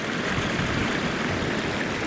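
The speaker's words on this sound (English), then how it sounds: "this is where the 10 Lakes Creek drains" Water of 10 Lakes Creek flowing where it drains near a side spur of the Tuolumne River, a loud, steady rushing babble close by, constant and unbroken with no voices.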